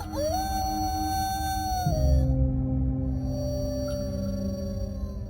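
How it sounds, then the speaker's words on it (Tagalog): Dogs howling at night, a long wavering howl sliding up then down, answered by a second lower sustained howl over a steady background hum, no talking. "Nakakakilabot naman ang mga alulong ng asom yan."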